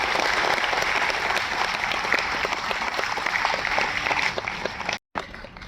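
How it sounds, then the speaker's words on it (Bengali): Loud, continuous audience clapping fills a hall at a business correspondence conclave in Sarat Sadan, with sharp individual claps standing out from the mass before it breaks off abruptly near the end. "নাস্তা জোরদার হাততালি দিন একটু।"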